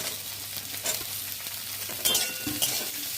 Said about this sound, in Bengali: গাজরটা আমাদের একটু ভাজা ভাজা হয়ে গেছে এবং এবার আমরা ক্যাপসিকামটা দিয়ে দিচ্ছি।